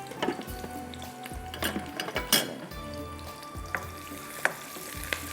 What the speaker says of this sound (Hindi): प्याज को अच्छी तरह से ब्राउन करना है, फिर इसके साथ इसमें मैं लहसुन को भी फ्राई करूँगी।